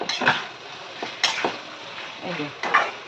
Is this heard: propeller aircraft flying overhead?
no